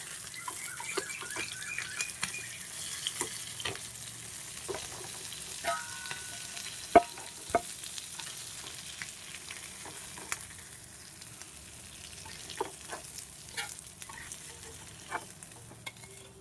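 Fish fry steadily and softly in hot oil, with a continuous low sizzle and scattered crackles and pops, no voices over it.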